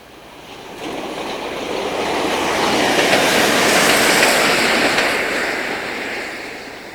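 A British Rail class 142 diesel unit on the Cardiff Valley lines passes by, its rushing roar swelling to a loud peak and then fading, with no voices.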